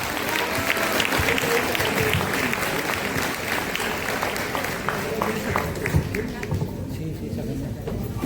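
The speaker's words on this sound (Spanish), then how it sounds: "Un aplauso, por favor." Audience applauding at a teachers' union education congress panel in Matanza, Argentina, a dense crackle of clapping with crowd noise and voices mixed in, fading toward the end.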